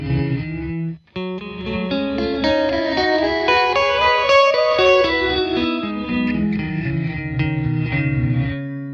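Fender Reflecting Pool reverb pedal in reverse mode with a long decay, dense sustained guitar chords swelling up behind each note, with a brief drop near the start and a steady wash to the end, no voices.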